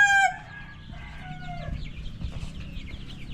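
A hen clucks after laying an egg on a farm, a loud burst of high calls at the start, then fainter, busy clucking and rustling continuing close by, with no speech.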